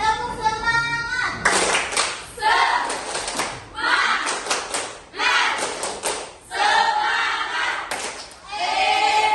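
A class of students does the tepuk semangat clapping routine, rhythmic bursts of group clapping and chanting voices repeating in sections, loud and close, with short pauses between rounds.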